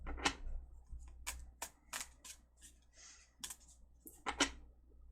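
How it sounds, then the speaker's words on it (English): Tarot cards being shuffled in quick bursts of crisp riffling and slapping, with short pauses between, fairly close and moderately loud; no talking. "I'm going to make sure that I continue shuffling until some clear messages come out"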